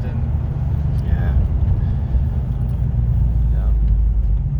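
A 1940 Ford Deluxe Coupe with a 327 V8 and Turbo 400 transmission rumbles with a deep, steady low-end drone from inside the car, loud and unbroken throughout.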